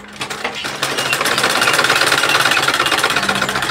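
An electric sewing machine stitches a fabric turban band in a fast, even mechanical rattle that runs loud and continuous at close range after a brief start.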